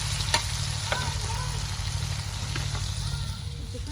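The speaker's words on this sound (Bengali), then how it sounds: "আর চিংড়ি মাছগুলো বাইদ্য নিচ্ছি" Shrimp and potatoes fry in a pan, giving a loud, continuous sizzle with a low rumbling hum beneath and a few brief scrapes or taps.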